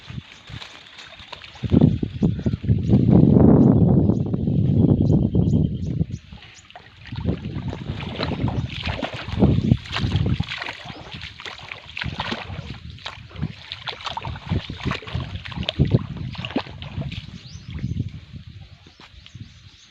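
Water carrying sulfur rushes through an irrigation channel into a fennel field, a loud, continuous gushing with a swell of heavier flow early on before it settles into an uneven, splashing trickle.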